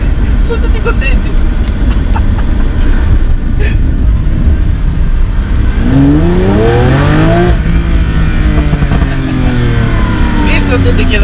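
A Lamborghini Aventador S with a V12 engine revs hard, loud and close, with its pitch climbing in sweeping rises and then falling, over constant engine and road roar, while people talk under it.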